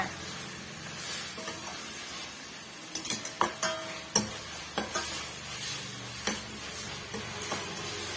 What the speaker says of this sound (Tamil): பாருங்க நல்லா வந்து இந்த மாதிரி வதங்கி வரட்டும்